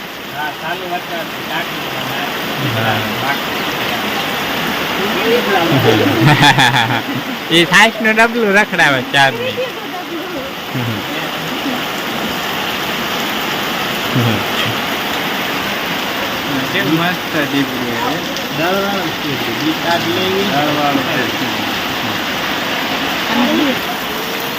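Rain falls steadily into a village courtyard after a long dry spell, a constant broad hiss filling the whole scene while people talk over it.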